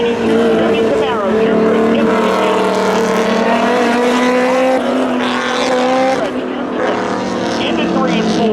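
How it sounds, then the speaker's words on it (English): A Honda Civic hatchback and a 1992 Chevy Camaro drag racing in a spectator drag event at Seekonk Speedway, loud sustained engine whines rising in pitch, with a voice talking over them. "Patrick Warren, Honda Civic, hatchback there. 1992 Chevy Camaro"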